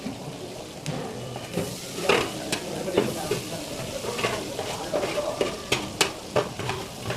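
Onions and tomatoes sizzling and frying in a pan, with a utensil stirring and scraping in irregular bursts, fairly close and moderately loud.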